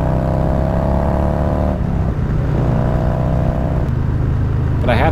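A Harley-Davidson Low Rider S motorcycle rides along with a loud, steady engine drone, easing off briefly then pulling again, with wind rush and a short burst of noise near the end.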